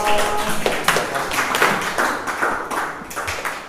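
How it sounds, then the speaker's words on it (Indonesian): Classroom applause from students, a steady run of mixed handclaps lasting several seconds at moderate loudness, with no talking over it. "Oke, kita kasih aplaus."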